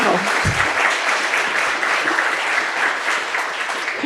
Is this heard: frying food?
no